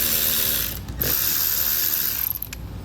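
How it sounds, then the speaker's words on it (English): A ratchet socket wrench with a 10mm socket clicks steadily and loudly up close while loosening battery terminal posts on a 2018 Jeep JK Wrangler, with a brief pause mid-way. "I'm going to remove the two posts with the 10mm socket."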